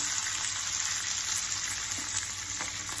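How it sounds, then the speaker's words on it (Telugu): Cut green chilies frying in oil for a coconut tomato chutney, giving a steady, dense sizzle that stays even and close throughout with no voices. "ఇంకా ఆయిల్ పచ్చిమిరపకాయలు కట్ చేసుకొని పచ్చిగా ఫ్రై చేసుకున్నాం."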